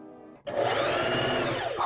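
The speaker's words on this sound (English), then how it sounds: "New sewing machine." A new plastic sewing machine starts abruptly after a brief tone, then runs in a steady, close, whirring hum for under two seconds.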